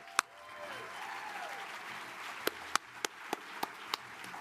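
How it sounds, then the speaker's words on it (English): A banquet audience claps for a student with a handful of sharp, separate claps spaced irregularly across a quiet hall, fairly faint overall. "Give her a round of applause."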